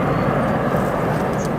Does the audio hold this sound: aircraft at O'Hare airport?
yes